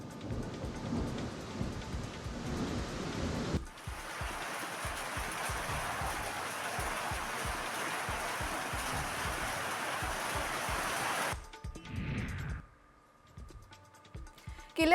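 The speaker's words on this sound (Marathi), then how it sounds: "अमरावती जिल्ह्यामध्ये वादळी वाऱ्यासह जोरदार गारांचा पाऊस बरसलाय।" Heavy rain with hail and strong wind in Amravati district, a dense, loud, continuous downpour roaring for several seconds, then abruptly cut, followed by a brief quieter stretch and a faint burst of noise.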